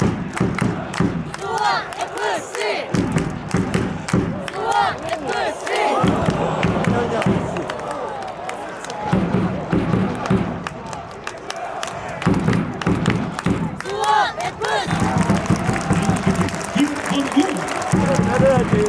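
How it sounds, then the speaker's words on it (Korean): A stadium crowd at a Suwon FC football match claps and cheers for a child's ceremonial kickoff, loud surges of applause and shouts with thuds, a voice talking over the noise at times. "여러분 따뜻한 박수로 맞아주시오"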